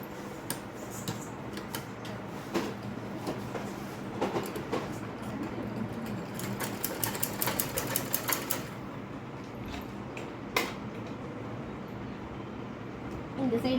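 Sewing machine stitching the hem of a student blouse rattles in quick, irregular bursts of clicking and whirring, fairly faint, with talk running alongside.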